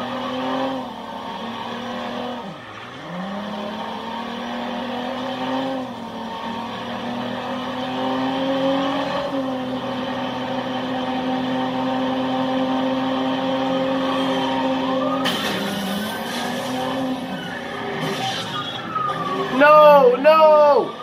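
A police patrol car with its siren wailing in the video game Watch Dogs, a steady rising and falling tone running through most of the stretch alongside engine and game sounds, with a player talking over it.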